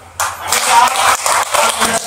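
An audience breaks into steady, close-up clapping at a Buddhist vihara naming ceremony. The applause starts abruptly, swells, then pulses unevenly with faint talk beneath.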